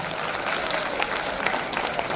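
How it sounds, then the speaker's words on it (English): A big round of applause for student leaders at a youth leadership event, a dense field of many hands clapping with a few sharper individual claps standing out, steady and fairly close, no talking. "Give them a big round of applause."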